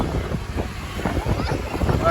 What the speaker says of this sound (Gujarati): જો પવન આવે છે મસ્તીનો